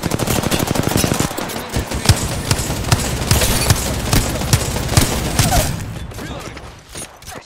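Rapid automatic gunfire in the video game Apex Legends, loud close bursts that go on for several seconds before fading, with talk over it.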